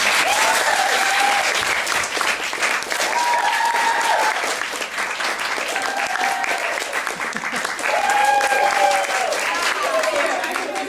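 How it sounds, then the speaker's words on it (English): An improv comedy audience claps loudly and continuously, a dense roar of applause filling the whole stretch with a voice speaking over it at intervals. "So now I'd like you to applaud."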